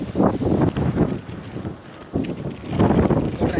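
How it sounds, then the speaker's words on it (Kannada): Strong wind at Yadgir fort buffets the microphone in loud, roaring gusts that swell and ease, dipping briefly before surging again. "ಗಾಳಿ ಭಾಳ ಬಿಟ್ಟದ"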